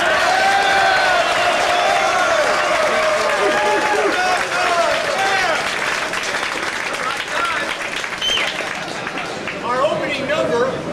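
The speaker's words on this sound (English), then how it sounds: "let's give a round of applause to all the lieutenants who've been doing KP all day long for us" Soldiers at a Christmas gathering in Samarra, Iraq, give a loud round of clapping and cheering for the lieutenants who worked KP, with shouts and voices mixed into the crowd noise throughout.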